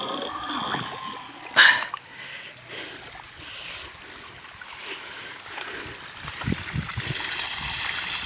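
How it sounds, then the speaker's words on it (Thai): Water gushes steadily from a 2-inch pipe fed by a 375 W, 24-volt solar-powered pump on an overcast day, a continuous outdoor flowing and splashing with a brief louder burst near the start. "ปริมาณน้ำไหล"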